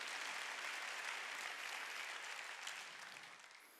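A church congregation claps during a Wednesday worship service, a dense, faint, steady wash of applause that fades toward the end.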